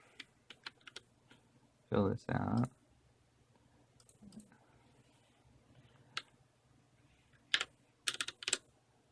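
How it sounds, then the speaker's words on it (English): Scattered bursts of keyboard typing, quick clicks in short clusters separated by pauses, with a person speaking briefly in between. "I can start typing my phone number"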